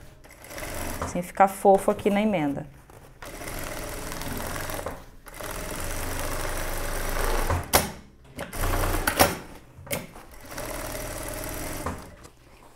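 A sewing machine topstitches the lining of a denim jumpsuit in close, rapid mechanical bursts separated by short pauses, while someone talks between and over the stitching.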